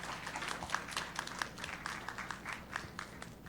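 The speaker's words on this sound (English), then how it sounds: "one more round of applause for our wonderful and fantastic moderators" Faint applause from an evening event audience honoring the moderators, a scattered patter of claps at a distance with no voices over it.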